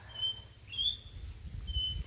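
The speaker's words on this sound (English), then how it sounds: "listen to the birds" Birds chirp in a Kenyan village in the countryside on a quiet morning, a few thin, high calls repeating at a moderate distance over a low background rumble.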